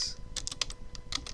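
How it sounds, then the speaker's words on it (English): Quick bursts of typing on a computer keyboard, a short run of close, crisp key clicks with small gaps between them, heard alone without speech. "So let me type that in."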